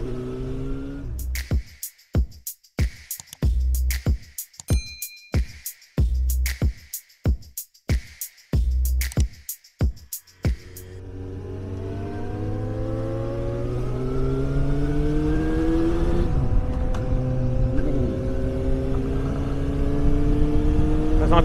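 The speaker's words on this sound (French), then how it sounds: "Petit essai du GSR de Joe." A GSR car engine on a test drive: a rapid series of sharp throttle blips and revs with gaps between them, then a long, loud, steady acceleration with the pitch climbing through the gears, heard close up and without talk.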